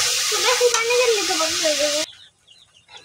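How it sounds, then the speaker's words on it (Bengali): Spices, onion, ginger, garlic and garam masala sizzle loudly in a pan for khichuri, with a wavering voice-like tone over the hiss. After about two seconds the sound cuts abruptly to near silence. "এখানে মশলা, পেঁয়াজ, আদা, রসুন আর গরম মশলা ভাজা ভাজা হয়ে গেছে"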